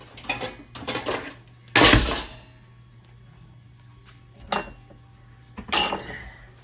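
Metal pots and a metal chinois strainer being handled in a kitchen, giving a few scattered clanks and clinks, one louder rattling knock, with quiet gaps between.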